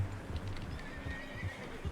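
A horse in Red Dead Redemption 2 gives a drawn-out whinny over the rhythmic clip-clop of hooves, moderately loud, with no talk.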